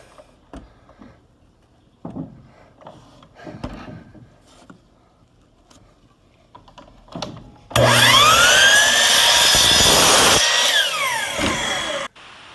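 A power saw cuts through plywood, loud and close, starting abruptly after several seconds of quiet knocks and handling, whining steadily for about four seconds, then stopping sharply.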